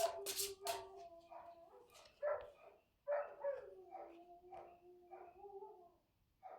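Working dogs bark and yelp repeatedly in short, fairly distant bursts, with some whining tones between barks and no talk over them.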